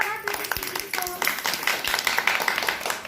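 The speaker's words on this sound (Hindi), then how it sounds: "ताली मारो" A group of trainees in Cuttack claps together, steady dense clapping with sharp hand slaps, following a short burst of voices at the start.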